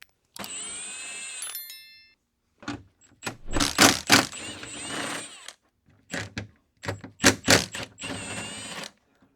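Power ratchet or impact driver spinning off four 10mm nuts from a Nissan Z rear spoiler, heard as several short whirring bursts separated by pauses, with light clicks and metallic handling between them.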